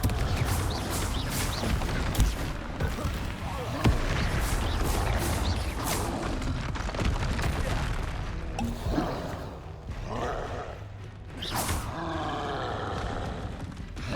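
A Confringo blast spell cast in the video game Hogwarts Legacy: dense, loud roaring crash with crackling bursts and rumbling debris sustained for most of the stretch, thinning out near the end with brief sharp hits.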